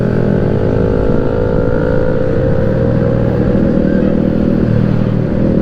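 Motorcycle touring group riding together on the road, including several scooter-style machines and a Honda CB, with steady loud engine drone and road rumble throughout, no pauses.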